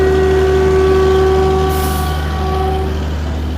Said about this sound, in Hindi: जनरेटर की आवाज़ बहुत ज़ोर आ रही है